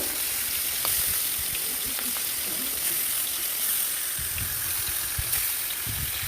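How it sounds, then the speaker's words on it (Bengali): Hilsa fish fry in hot oil in a wok, a steady close sizzle with faint crackles and occasional spits throughout. "কড়াইতে তেল দিয়ে তেলের উপরে মাছগুলো, ইলিশ মাছগুলো দিয়ে দিল"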